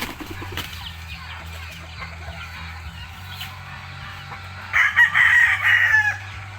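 Chickens and small chicks cluck steadily at feeding time, with a rooster crowing loudly near the end.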